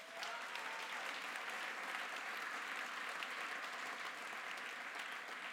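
Applause at a SPD political tour event in Bremen, a dense, even roar of clapping from a large crowd, held steady and fairly distant for several seconds with no talk over it.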